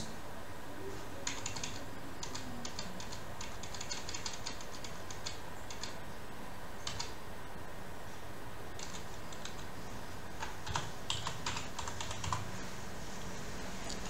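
Keys clatter on a computer keyboard in a quiet room, with light rapid tapping in short bursts and gaps between them.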